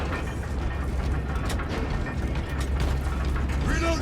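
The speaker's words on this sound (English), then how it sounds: "The elevator is almost here." A heavy elevator from the game Warhammer 40,000: Space Marine 2 grinds closer, its machinery rumbling low and steadily with ratcheting metallic creaks and clanks layered on top.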